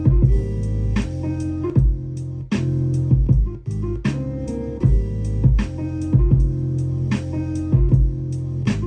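Sampled jazz loop on an OP-1 Field with an added drum part, steady beat-driven groove with bass and chords, kick and snare hits recurring through the loop, loud and continuous without talk.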